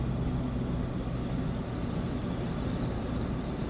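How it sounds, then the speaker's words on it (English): A 1962 Cadillac Coupe DeVille cruising with a steady, loud low rumble of engine and road noise, plus a faint hiss of wind, continuous throughout with no voices. "Very nice, smooth Cadillac ride from this car."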